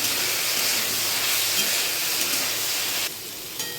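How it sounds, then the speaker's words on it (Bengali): Potatoes fry in a pan with salt and turmeric with a loud, steady hiss that drops off sharply near the end. "আলুটাকে লাল করে ভেজে নেব"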